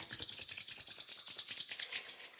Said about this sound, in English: Shake out the hands. Rub them together.